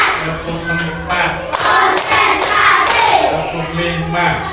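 Fourth-grade children in an elementary school classroom clap along in a counting clapping game, with several rounds of group claps and thuds mixed with a teacher's voice and children's chatter.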